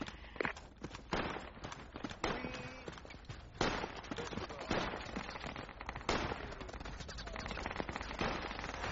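Machine gun fire in the Project Reality video game comes as sharp, irregular bursts and single cracks over a noisy battlefield background, moderately loud, with faint voices now and then.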